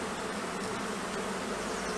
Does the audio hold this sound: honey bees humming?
yes